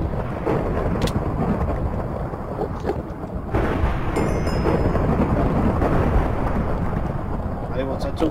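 In Minecraft, steady rain hisses without a break while thunder rumbles low beneath it, rising in a broad surge partway through.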